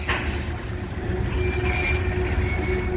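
A manifest freight train passes in Minneapolis with a continuous, heavy low rumble and rolling wagon noise, steady and fairly close throughout.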